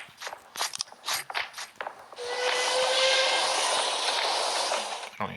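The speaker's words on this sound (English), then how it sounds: "I can't even fire at the enemy train." An enemy train in Pixel Soldiers: The Great War, Russian Civil War battle of Tsaritsyn, rolls past as a loud, steady hiss and rumble lasting several seconds with a faint whistle-like tone, after earlier scattered crunching battlefield sounds.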